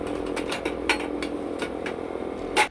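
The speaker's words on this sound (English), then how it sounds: "using an angle grinder to cut aluminium is not the best idea out there, but at least it does get the job done" An angle grinder cuts aluminium boost pipes for a twin-supercharged Mercedes intercooler setup, giving a steady whine broken by a series of sharp, loud bursts as the disc bites the metal.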